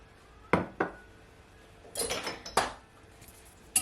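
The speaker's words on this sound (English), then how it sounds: "now I'm just gonna firstly add my egg." An egg is added to pancake batter in a bowl, with a few sharp clinks and knocks against the bowl scattered across a quiet background and no speech.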